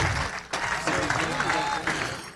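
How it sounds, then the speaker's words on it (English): Audience applause at a hoop dance contest, a dense crowd clapping throughout with an announcer talking over it. "Round of applause, Jerry Hunt."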